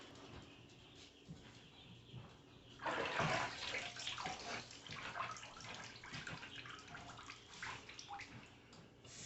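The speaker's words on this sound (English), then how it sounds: "I'm going to rinse this off." Water running from a tap while a cured ham is rinsed off, a soft steady splashing that turns louder and more broken as the water hits the meat, with no talking.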